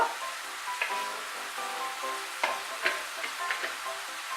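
Poppy seed paste being stirred into spinach in a hot pan, giving a steady low sizzle under intermittent soft scraping strokes and a few light utensil taps against the pan.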